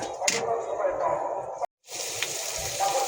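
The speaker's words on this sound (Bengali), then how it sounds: "টমেটোগুলো আমি ভালো করে মশলাটা কষাই নিব" Spice paste with tomatoes, turmeric, coriander and chili powder sizzles steadily in a pan, a continuous close frying hiss with a brief gap midway, under a voice speaking.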